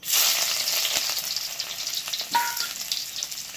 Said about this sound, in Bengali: তেলটা গরম হয়ে গেছে এবার দিয়ে দিচ্ছি রসুন কুচি